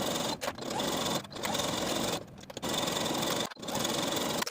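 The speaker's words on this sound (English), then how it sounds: "I'm going to edge stitch close to that inner raw edge all the way around the bottom of the dress" Sewing machine running in steady bursts, edge stitching close to the raw edge along the hem of a 1970s-style jersey wrap dress; continuous whirring runs with brief pauses between them, close and clear with no talk.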